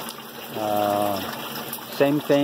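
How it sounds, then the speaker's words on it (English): Water pumped into a fish tank of a simple iAVS sandponics aquaponics setup, a steady rushing hiss running throughout beneath someone talking. "You see the water is pumping in"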